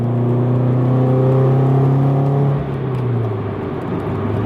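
A Subaru BRZ/Scion FR-S/Toyota GT86 with an Invidia N2 exhaust rumbles with a deep, steady exhaust drone that rises in pitch, then drops and settles into a lower idle-like rumble, close and fairly loud.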